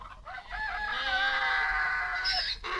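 A rooster crows nearby, one long drawn-out cock-a-doodle-doo rising and holding before it breaks off, loud and clear with no talking over it.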